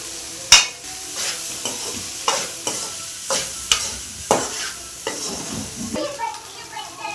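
Cooked rice being stirred and fried in a pan with turmeric for lemon rice, a steady sizzle broken by repeated scraping strokes of the spoon, close and fairly loud with no talking.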